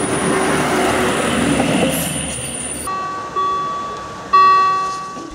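A DB Class 628 diesel railcar pulls away from Neustadt station as a regional express, its engine droning steadily while tonal whines rise in steps as it gathers speed.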